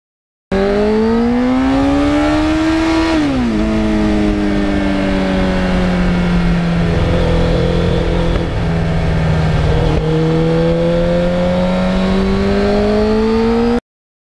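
A restored 1991 Yamaha FZR1000 motorcycle engine revving loudly and close, with a rising howl, a quick drop, then a long sustained high rev before climbing again.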